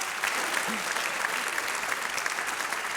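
Sustained applause from a live theatre audience at a comedy performance, thick and even clapping at close range, with a faint voice briefly rising under it.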